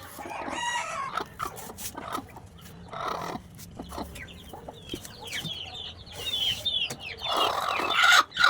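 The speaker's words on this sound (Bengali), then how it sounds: "যে মুরগিটা বসতে চাইছে ওই মুরগিটাকে নিয়ে এখানে বসিয়ে দিব।" Domestic hens and a rooster on a farm where eggs are being set for hatching, with repeated clucks, squawks and a crow building to a loud burst near the end, all without talk.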